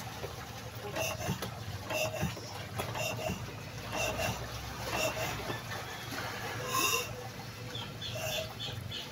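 An outboard boat engine on a fishing banca, tested after failing to start overnight, runs with a steady low drone and a faint knocking from underneath, set against outdoor background noise.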